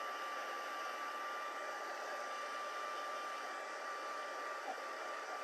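A dryer blows steadily and fairly quietly over embossing powder on a card, a constant even whoosh with no break from start to finish.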